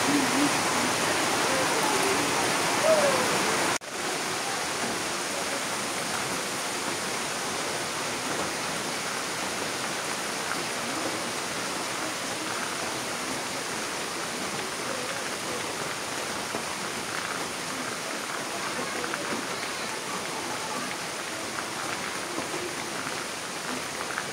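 Steady rain falling continuously, a dense even hiss of drops close by with a brief knock near the start and no voices.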